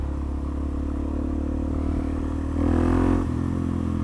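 A Suzuki DRZ motorcycle engine drones steadily while being ridden, a loud, close buzzing hum that swells briefly as the throttle opens, then settles back.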